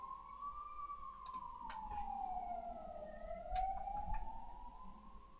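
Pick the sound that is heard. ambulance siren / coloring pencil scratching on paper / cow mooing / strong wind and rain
ambulance siren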